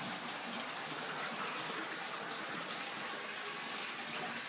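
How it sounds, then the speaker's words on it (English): Faint tap water gushing steadily from a hose or faucet into a cichlid aquarium tank, a continuous broadband hiss of running and splashing water with no talk. "turn on the cold water, turn on a little bit of hot. That just goes right into the tank up above"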